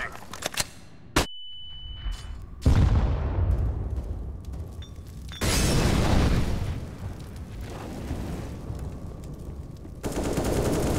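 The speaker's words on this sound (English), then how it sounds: "Throwing flashbang." Flashbang grenades and gunfire in the game CS:GO: sharp bangs, a high ringing tone, and long noisy blasts that decay slowly, all loud and close with no talk.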